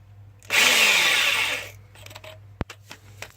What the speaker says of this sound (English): we're going to use our trusty drill bit